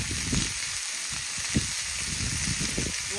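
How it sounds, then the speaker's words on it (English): Meat sizzles in avocado oil in a hot cast iron pan, a steady close frying hiss with small pops, heard alone. "you're about to be able to listen to that cast iron sizzle"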